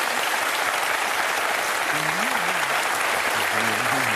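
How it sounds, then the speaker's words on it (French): Dense, steady audience applause fills a Formula One engine presentation, with a voice speaking over the clapping in the second half. "Ça s'applaudit, cette fois-ci."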